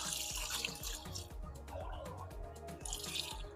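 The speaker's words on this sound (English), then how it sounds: "So we're gonna add water" Water pours into an oxtail roasting tray with close splashing, dribbling, and a run of irregular drips and plinks, fairly quiet overall.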